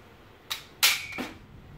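A cosplay prop gun for a wasteland costume fires two sharp, close reports about a third of a second apart, followed by a softer thud, with quiet around them.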